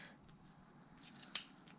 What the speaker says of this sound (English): just so I can get my scissors underneath and trim off